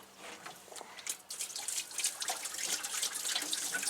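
Water from a gallon jug poured under the hood of a 1991 GMC Jimmy to rinse off spilled radiator coolant, a close trickling splash that starts faint and builds into a steady spattering stream.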